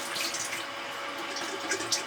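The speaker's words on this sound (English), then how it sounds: "So I'm just going to pour that out." Water poured from a kettle splashes steadily into a sink, a continuous bright gushing close by that lasts the whole stretch with slight surges near the end, no voices.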